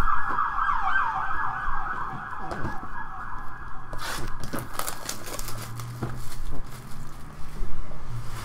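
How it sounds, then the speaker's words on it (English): A wailing siren sweeps up and down in the distance, continuing under steady traffic noise and occasional clattering bumps. "we're getting sirens for this case"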